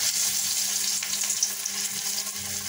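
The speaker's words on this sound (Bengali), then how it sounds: "তেল গরম হয়ে গেছে, এবার এখন আমি ডালগুলা ছেড়ে দিই।" Lentil fritter batter dropped into hot oil fries with a steady, close crackling sizzle that runs throughout without pause.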